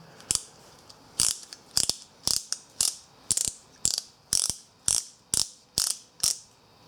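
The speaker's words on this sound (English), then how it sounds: "you just ratchet it and it goes around the pipe" A ratcheting pipe cutter clicks around a pipe in about a dozen sharp, evenly spaced ratchet strokes, close and crisp, with no talking.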